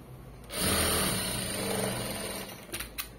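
A sewing machine running a neat stitch line, starting after a brief quiet moment and whirring steadily and close, then ending with a few short separate bursts.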